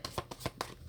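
Tarot cards being shuffled by hand give quick, soft riffling bursts in a rapid, even rhythm. The sound is close and quiet with no speech.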